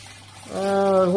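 Liquid trickles and drips from the outlet hose of a reflux still during a first alcohol distillation run, a slowing stream that grows louder partway through, close and alone without talk.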